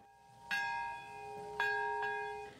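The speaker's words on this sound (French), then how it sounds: "les cloches de la ville retentissent" City church bells ring out in commemoration with three clear, resonant strikes spaced over a couple of seconds. Each one leaves a long, shimmering decay that hangs in a quiet outdoor setting.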